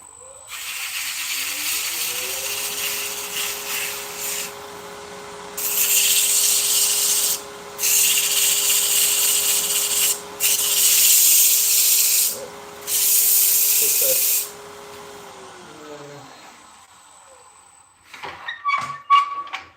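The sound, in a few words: sanding textured mulberry wood vase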